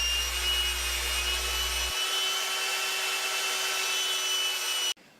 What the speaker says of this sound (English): we'll shape the dowels after we've turned it into kind of like a peanut body shape on the sander